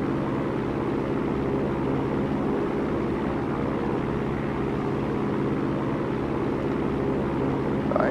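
A propeller aircraft engine in a home flight simulator gives a constant, even droning roar that holds steady with no other sounds over it.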